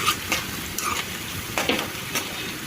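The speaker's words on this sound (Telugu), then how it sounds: "ఒకసారి కలిపేసి వీటిని దూరగా ఫ్రై చేసుకోవాలండి ఈ ఆనియన్స్ని" Chopped onion pieces sizzle steadily in a hot pan while a spoon stirs them, making a soft constant frying hiss with a few light scraping strokes, close up.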